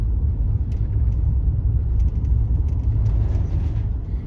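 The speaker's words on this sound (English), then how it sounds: "Wow, traffic." Road traffic on a main road heard from a moving vehicle in rural hill country, a steady low engine and tire rumble with a few faint higher brake or hiss sounds over it.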